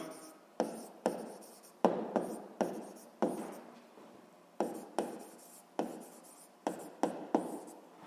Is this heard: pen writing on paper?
yes